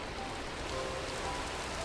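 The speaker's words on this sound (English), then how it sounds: "It's raining right now," Steady hiss of rain falling in the Minecraft video game, an even, unbroken wash of noise at low volume with no other sounds.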